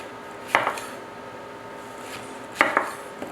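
Two sharp knife cuts through fresh peaches on a board, spaced about two seconds apart, close and fairly quiet with no talking.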